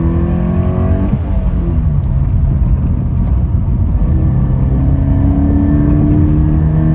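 A car engine rumbles and whirs steadily at close range, with its pitch shifting as the driver changes speed, and no one speaks.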